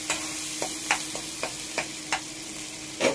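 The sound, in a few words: stirring and frying in a pan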